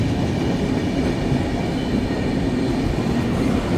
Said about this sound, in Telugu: వివేక్ ఎక్స్ప్రెస్ వచ్చింది ఇప్పుడే.